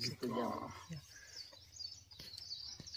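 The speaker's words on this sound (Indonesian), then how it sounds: "menikmati suara burung" Birds chirping and calling near and far on Mount Egon, Flores, with a brief stretch of voices early on and thin tweets continuing over faint ambient sound.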